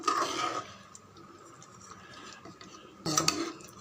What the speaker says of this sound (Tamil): மெதுவாக கலந்து விடுங்க.